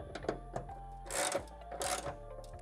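Rapid ratcheting clicks from a wrench tightening a bolt on a Mazda 3 bracket, close up, in two short bursts with quiet pauses between.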